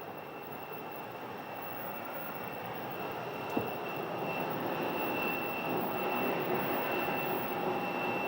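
A SkyWest Embraer 175 airliner approaching to land at Sky Harbor makes a steady, broad jet roar that grows slightly louder over the clip, with no talk.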